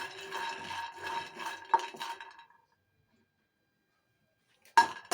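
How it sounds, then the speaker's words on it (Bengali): Peanuts being dry-roasted in a pan rattle and clink against the metal as they are stirred, a close scraping clatter that stops into silence before a final sharp clink. "এই যে বাদাম কটকটি বানানোর জন্য আমি বাদামগুলি ভেজে নিতেছি"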